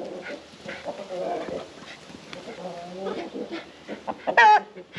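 Rooster and hens on a farm clucking in short bursts, with one sharp squawk near the end, heard close up while people talk nearby.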